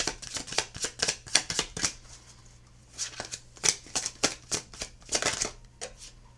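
Tarot cards are shuffled in quick bursts of riffling flicks, close and crisp, with brief pauses between runs.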